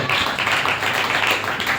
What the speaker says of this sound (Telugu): చప్పట్లు కొడుతూ ప్రభునామాన్ని